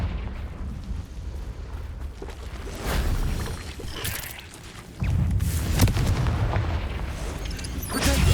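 A Confringo spell explosion in Hogwarts Legacy, a deep rumbling boom that surges loudly near the middle and keeps rolling through the rest, with no talk over it.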